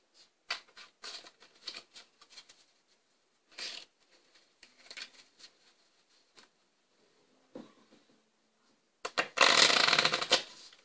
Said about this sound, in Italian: Io ho utilizzato il triplo taglio